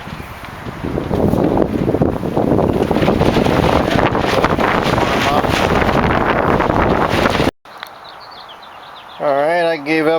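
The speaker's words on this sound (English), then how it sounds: "Kind of cold out here, wind's blowing." Wind blows hard outdoors on a cold, blustery day, a loud, steady roar buffeting the microphone for about seven seconds before cutting off to quieter background, then a short burst of wavering tone near the end.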